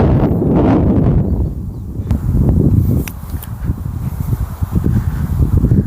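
Strong wind at Sam Phraya beach in Kui Buri, Prachuap Khiri Khan, buffets the microphone with a loud, continuous, gusty roar. Faint rustling sits underneath.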